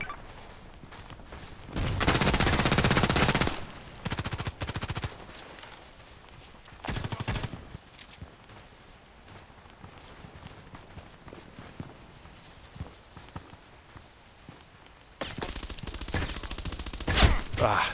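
Bursts of automatic gunfire from the online shooter Contract Wars, loud sustained volleys at the start and end with shorter shots between, footsteps and game effects underneath.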